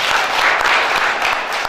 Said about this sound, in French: Donc applaudissez très fort pour ça.